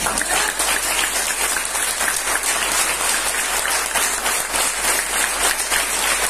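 An audience at a network marketing motivational seminar claps steadily, a dense, even wash of applause filling the room without pause, no voices above it.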